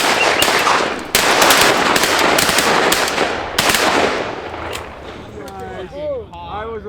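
Shotgun blasts during an Oregon duck hunt for wigeon and mallards, several sharp loud shots in quick succession outdoors, followed by voices and duck calls.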